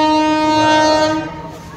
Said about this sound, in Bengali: তো ট্রেন ঢুকছে শিরোমণি